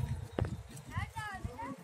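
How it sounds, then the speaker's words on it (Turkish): Pony hooves clip-clop in a few quick steps close by, faint beneath people talking, with a brief higher animal call partway through. "Çok tatlı midilli atı bunlar."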